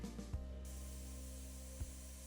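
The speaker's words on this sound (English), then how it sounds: "I love spraying top coat" A sprayer hisses steadily as top coat goes onto a mid-century modern dresser during a makeover, a continuous close broadband spray with a couple of faint knocks and no talk.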